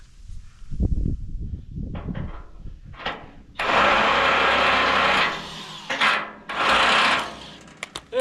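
DeWalt DCF900 impact wrench hammering on a rusted axle nut of an old trailer, loud bursts of rapid rattling impacts with short pauses between, preceded by clanks and knocks of tools.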